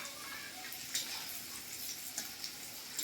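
Edible gum fries in hot ghee, a steady bright sizzle with a few sharp pops and crackles breaking through as the pieces puff up.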